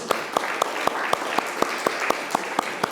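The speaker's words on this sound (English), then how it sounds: "Give him a round of applause." A small audience claps along in a steady rhythmic beat, each clap sharp and evenly spaced over a soft background of scattered applause.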